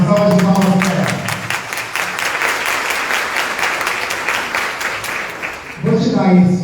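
An audience at a launch event breaks into loud, dense applause, sustained for several seconds, with a voice speaking over the opening and closing moments.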